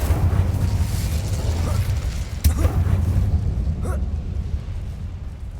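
An Incendio fire spell cast in Hogwarts Legacy: a sharp burst at the start of a roaring, whooshing blaze that sustains for several seconds, with a quieter pop afterward.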